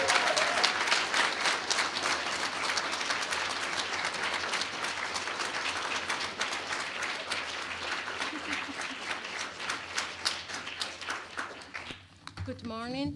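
Sustained audience applause fills a room at an awards breakfast, dense steady clapping from many hands for about twelve seconds before fading, after which a voice begins speaking.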